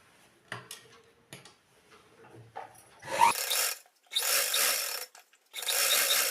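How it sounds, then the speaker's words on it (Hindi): Sewing machine stitching the seam of a ladies' trouser leg, running in three sustained bursts of fast mechanical whirring after a stretch of quiet handling and rustling of fabric. "अब यहाँ इसकी हम सिलाई कर देते हैं।"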